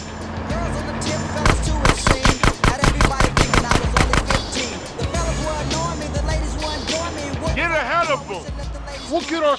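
Rapid bursts of automatic gunfire in the video game GTA: San Andreas, a dense run of loud shots over a few seconds, with voices and game sounds around it.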